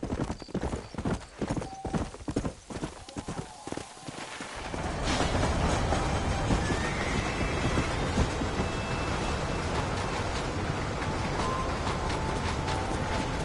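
Horse hooves in Red Dead Redemption clip-clop in a steady close rhythm, first sparse and then swelling into a dense rolling clatter of a wagon team on the move, with brief talk at the start.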